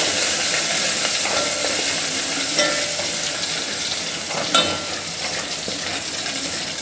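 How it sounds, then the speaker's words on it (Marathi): Ginger garlic paste frying in oil with curry leaves for a Maharashtrian varan tempering, a loud steady close sizzle with a couple of light utensil clinks. "आता अद्रक लसूण छान तेलामध्ये तळून घ्यायचा।"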